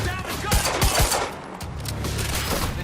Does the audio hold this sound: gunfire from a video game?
yes